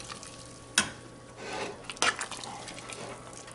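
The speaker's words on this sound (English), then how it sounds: "Give those a stir." Broccoli and celery being stirred into a pot of simmering soup stock with potatoes, giving a quiet, brief scraping stir with a couple of sharp utensil knocks against the pot.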